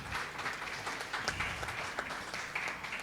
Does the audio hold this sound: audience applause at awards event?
yes